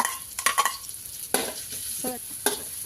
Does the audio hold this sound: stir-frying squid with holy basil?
yes